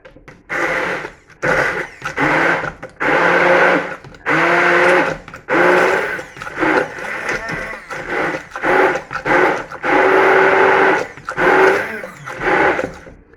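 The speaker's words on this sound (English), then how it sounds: "Hopefully the stick blender will reach and not get cabled up with everything. So quick chickpea sauce, if we turned it on." A stick blender whirs through chickpea sauce in a cooking pot, running in about a dozen loud bursts of a few seconds each with short pauses between, its pitch straining and shifting as the motor works, with no talking.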